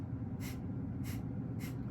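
Breath of Fire, a rapid yogic breathing exercise: three sharp, forceful breath bursts in a steady rhythm, close and distinct over a low background hum.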